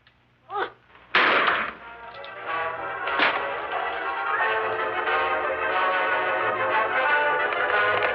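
Gunshot in an old Lone Ranger western radio drama, a sharp crack at the start trailing into a long ringing echo that lingers and swells for several seconds.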